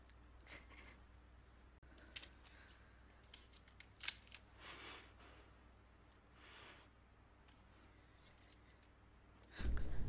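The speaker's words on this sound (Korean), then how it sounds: "붙어버린 발가락 사이를 독하게 가위로 잘라버립니다." Scissors snip between toes in a film scene, a few sharp, close cuts spaced out over a quiet background, followed by a louder muffled rustle at the end.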